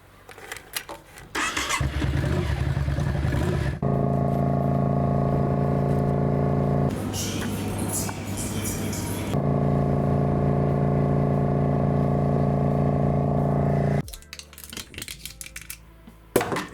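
A homemade engine for a T-150 tractor cranks and catches, settling into a loud, steady mid-pitched idle that runs for several seconds, briefly changes note, then resumes before cutting off near the end.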